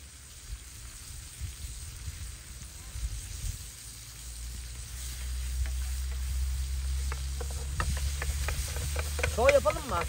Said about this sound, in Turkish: Devam biber kızartalım bolsan da.